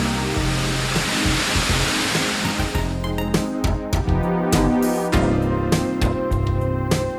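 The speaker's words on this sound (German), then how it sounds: "Die Wildwasserbahn, die wohl beliebteste Wasseranlage der Welt." Rushing water roars from a Mack log flume water ride at a theme park, a loud, dense wash of spray that continues steadily while a rhythmic mechanical layer joins partway through.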